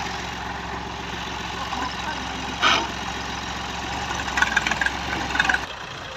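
A Ghazi tractor stuck deep in mud runs its engine at a steady low rumble, with a few louder rattling bursts and clanks rising over the continuous drone.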